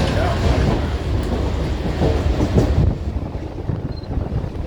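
A moving Mumbai local fast train from Kalyan rattles and rumbles steadily with wind buffeting the microphone, the roar easing slightly near the end.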